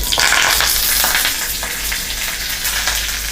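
Mustard seeds, curry leaves and a dried chili crackle and sizzle loudly in hot oil, a dense, steady frying hiss close by with scattered popping.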